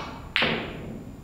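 A single sharp click at a billiards table during a national billiards final, as a cue-struck ball strikes the red ball, followed by a faint fading ring over quiet room tone.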